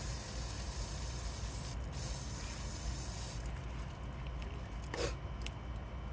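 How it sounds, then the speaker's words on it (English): WD-40 is sprayed onto a motorcycle chain in a faint, continuous hiss, with a couple of brief, sharper spray bursts near the end. "once I get the WD-40 sprayed on it"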